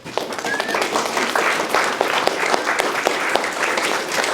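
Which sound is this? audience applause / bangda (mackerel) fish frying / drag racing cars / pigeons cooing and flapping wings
audience applause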